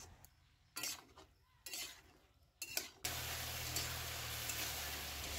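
Ridge gourd (dhundul) is stirred in a pan over a high flame. Scattered spatula scrapes and clinks come first, then a steady loud sizzle takes over for the rest of the clip, with no voices.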